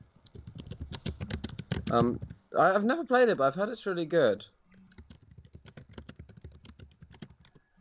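Rapid keyboard typing clicks away in quick bursts, with someone talking over the keys in a casual conversation before the clicking resumes faintly.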